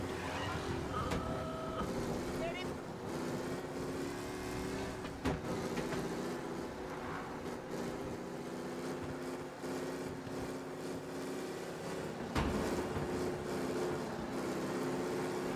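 A 1930s-style car engine drones steadily as it drives in the video game Mafia: Definitive Edition, a continuous mid-loud hum with occasional thumps and knocks, while someone talks over it.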